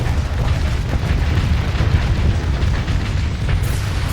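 Torpedo striking a ship in Starsector space combat, a sustained loud rumbling explosion with booming bursts and crackling pops layered over continuous low roar for several seconds.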